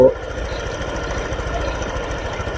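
A Honda PCX 150 scooter with a stumbling, hard-starting fault idles close by, a steady low rhythmic engine chug with faint mechanical ticking, continuous and unchanging throughout.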